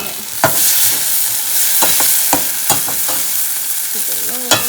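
Eggs, three of them with a tablespoon or so of cherry, being mixed and crushed for an omelette, sounding as a steady wet stirring with several sharp clicks of utensil against bowl, close and alone.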